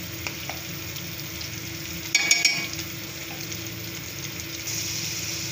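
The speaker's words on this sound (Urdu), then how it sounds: "اب اس کو 1 منٹ تک بھونیں گے۔" Cumin seeds and chopped tomato fry in a pot as the base for beef pulao, a steady low sizzle running throughout with a brief burst of stirring clatter partway through.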